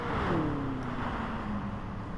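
A race car engine in a racing video game at the Nürburgring Grand Prix finish: a steady, loud engine drone with a pitch that slides downward, heard alone without talk.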